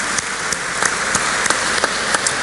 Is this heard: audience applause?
yes